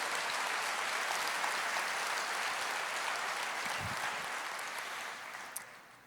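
Sustained audience applause at a church service for a sermon, dense steady clapping from a large congregation that tapers slightly toward the end with no talking.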